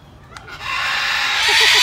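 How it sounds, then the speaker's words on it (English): A bird squawks at a bird rescue, a few short rising calls that repeat near the end, loud and close over rustling and handling noise. "That's a bird squawk, and that's what made her jump."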